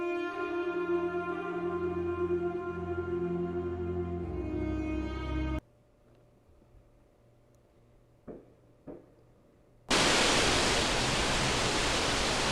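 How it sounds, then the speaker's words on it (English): Water floods into a sinking ship in the video game Britanic. A steady tonal drone fades into near silence with a couple of soft knocks, then a loud, dense rushing roar of water pours in and holds steady. "Sounds like the ship's already taking in water."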